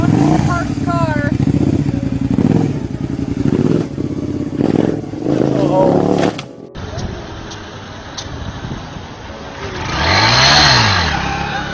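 A motorcycle engine at a dealership revs hard and accelerates, a loud mid-pitched roar with a sweeping rise and fall toward the end, heard alongside talk and an abrupt cut partway through.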